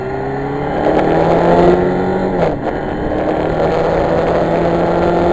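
A motorcycle revs and pulls away, its engine note rising and sweeping upward before settling into a steady drone as it moves off, loud and close with no voices.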